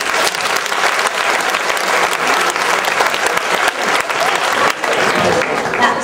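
Loud, sustained applause from an audience fills the whole stretch, dense and steady with brief dips, greeting a school dance class at a college arts party.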